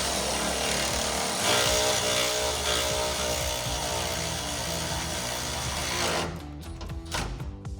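A power tool whirs steadily while snugging a bolt on a Borla S-Type dual exhaust system on a Silverado or Sierra 1500 pickup, running close and loud for about six seconds before cutting off to quieter clatter.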